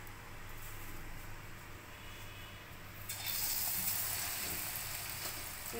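Batter-coated green beans drop into hot oil, giving a soft steady hiss that swells into a brighter, louder sizzle halfway through.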